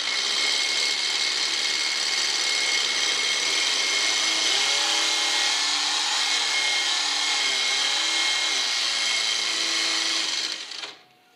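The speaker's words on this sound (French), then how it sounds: "ça tire un peu plus sur la perceuse" A power drill spins over a Citroën CX 2200 diesel engine, loud and steady with a constant high whine and a low laboring undertone, and it cuts off abruptly near the end.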